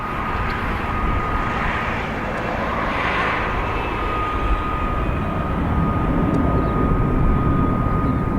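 An airliner's engines roar steadily from Dublin Airport's runway 28 right during takeoff, a loud broad rumble holding for several seconds with a faint whine above it and no talk.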